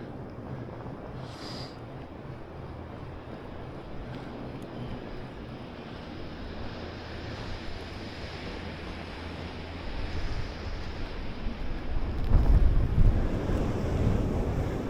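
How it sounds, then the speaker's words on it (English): Steady wind roars across an open microphone during an urban fat bike ride through a snowy blizzard in Manchester, New Hampshire, building into louder gusts toward the end, with no talking. "Yeah, the wind's at my back, which is great."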